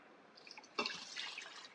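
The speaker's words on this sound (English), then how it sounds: "I'm just going to top it off with water" Water poured from a container into an Instant Pot to top off the cooking liquid, a soft splashing trickle that starts abruptly and runs steadily, close and fairly quiet.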